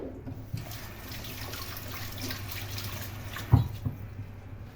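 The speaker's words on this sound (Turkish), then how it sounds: "ellerimi yıkıyorum" Tap water runs into a sink while hands are washed during home cooking of spinach and vermicelli börek, a steady moderate splashing with a brief louder splash near the end.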